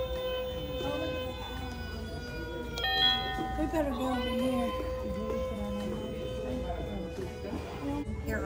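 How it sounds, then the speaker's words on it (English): An eerie electronic Halloween haunted doorbell chime rings out with tonal, wavering notes and spooky sliding sounds, while a voice talks faintly underneath in a store. "Haunted doorbell."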